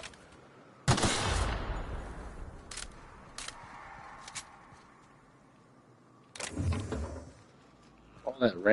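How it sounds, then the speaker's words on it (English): Gunfire in The Outer Worlds, with a loud burst early on, a few sharp isolated shots after it, and another cluster of shots near the end, all over a quiet game background. "All that random shooting"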